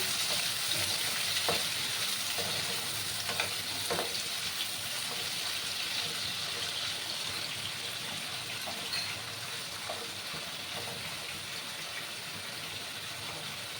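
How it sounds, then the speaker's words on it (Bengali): Prawns frying lightly in hot oil give a steady, dense sizzle that runs without a break, with a few soft stirring knocks and clicks from the pan scattered through it. "বন্ধুরা তেলটা গরম হয়ে গেছে এবার আমি চিংড়ি মাছগুলো দিয়ে দেবো হালকা করেই ভাজবো"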